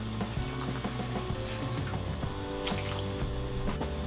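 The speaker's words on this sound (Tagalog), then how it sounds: "Maglalagay po ako ng konting tubig." Steady crackling sizzle and bubbling from a hot pan as a little water is added while cooking chicken hamonado with brown sugar, close and fairly quiet, with no voices.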